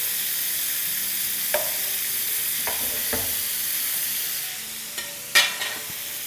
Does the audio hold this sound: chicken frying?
yes